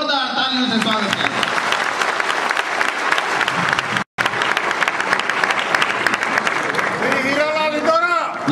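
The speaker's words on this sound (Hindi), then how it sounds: "जोरदार तालियों से स्वागत किया" Loud, dense applause from a crowd at a Dhanuk community gathering in Patna welcoming a guest, steady clapping throughout with a brief cut midway and voices rising through it near the end.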